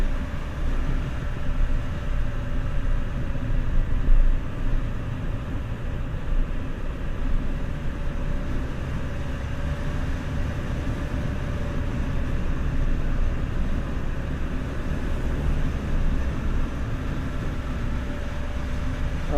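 A Can-Am Spyder F3 three-wheeled motorcycle engine held in third gear going downhill, a steady low droning rumble with wind noise that stays even and continuous, with no talking.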